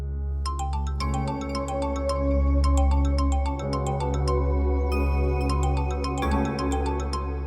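A mobile phone rings with an incoming call, a loud repeating melodic ringtone of bright electronic tones in a steady rhythm, heard alone, with no speech.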